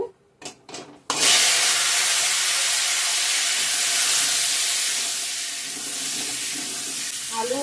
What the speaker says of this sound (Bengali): সিদ্ধ করা ওলটা একটু ভেজে নিব